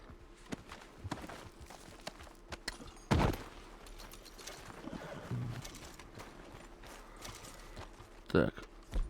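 A horse in the video game Red Dead Redemption 2 moves about, with scattered hoof clip-clops and thuds, a couple of louder close hits and a possible brief whinny over quiet game ambience.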